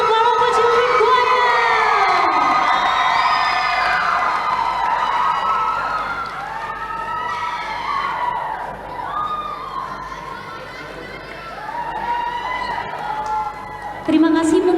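Audience applause and cheering for the Palopo Children Choir at a choir competition in Makassar, a loud, sustained crowd roar with children shouting and whooping that fades and swells, with chatter throughout.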